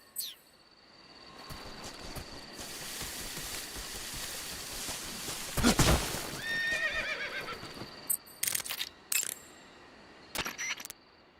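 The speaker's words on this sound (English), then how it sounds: "You just heard a horse?" A horse whinnies in the video game Metal Gear Solid Delta: Snake Eater, one long shrill neigh rising over a low ambient hum, then clip-clopping hooves and a few scattered clicks follow.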